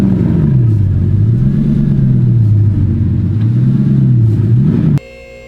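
A loud, close Bugatti Chiron, a wrecked car being rebuilt, rumbles at low speed as it is driven inside, its engine tone rising and falling gently before cutting off abruptly near the end.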